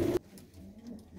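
A long-feathered pigeon gives a faint, low, soft coo just after a brief loud burst, with no talking.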